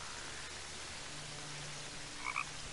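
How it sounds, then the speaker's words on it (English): Frog croaking in a nighttime swamp among lily pads in a video game, heard as two short, fairly faint croaks near the end over a quiet, hissy ambient background. "Frog!"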